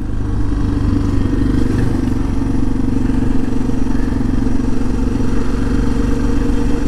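Suzuki DR650 dual-sport motorcycle engine droning steadily while riding at about 10,300 feet near Cedar Breaks National Monument, loud, close and continuous with wind rush and no talk.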